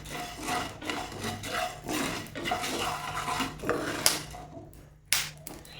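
Coriander seeds dry-roasting in a pan for Onam rasam powder, stirred so they give a dry scraping, rustling rasp in uneven strokes close by, with a couple of sharper scrapes near the end.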